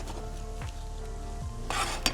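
Chopped onions sizzle and fry in a pan, browning for a home-style Ramzan dish, a steady crackling hiss with a low hum beneath, a brief louder burst of sizzle near the end and a single sharp clink.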